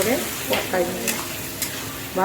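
Spices with turmeric and salt sizzle in a hot pan while being stirred, giving short scraping strokes over a steady frying hiss, close and fairly loud, with no talking.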